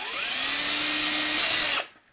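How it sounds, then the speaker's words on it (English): A power drill bores pilot holes while building an FC-7 style keyboard pedal clone, a steady loud whine running about 1.8 seconds alone before spinning down and stopping. "Now that I've marked those 2 holes, I have my pilot hole drill."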